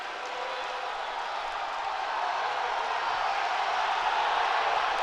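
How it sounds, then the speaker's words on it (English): Crowd at a Michigan versus Wisconsin 157-pound college wrestling match roaring for the hometown wrestler during a tiebreaker, a loud, sustained wash of cheering that swells slightly and holds throughout, with no clear individual voices. "And the crowd is excited for the hometown kid."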